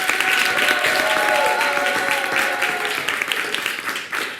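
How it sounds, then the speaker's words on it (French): A Christmas-day audience claps for a choir, continuous applause from a fair-sized crowd with a few whoops and held voices mixed in, loud and sustained before easing off slightly. "On applaudit encore, s'il vous plaît."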